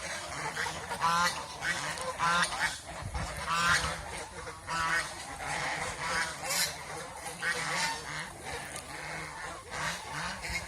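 Domestic geese honk loudly and repeatedly, close by, as they mate in water, with some splashing and the ruffle of feathers behind the calls.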